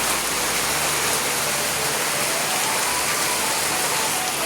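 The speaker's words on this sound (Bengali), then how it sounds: "মুষলধারে চলে আসলে বৃষ্টি দেখো।" Heavy pouring rain in a village at evening, a dense, loud, unbroken roar of water hitting surfaces all around with no voices.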